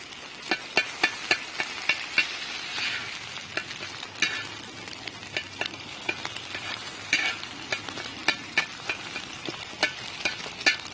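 Eggs fry on a disc cooker outdoors for a New Mexico breakfast, a soft continuous sizzle broken by sharp metallic clinks of a spatula scraping and tapping the steel, near and without talk.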